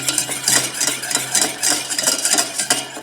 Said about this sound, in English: you kind of want to stir this too while this is going on.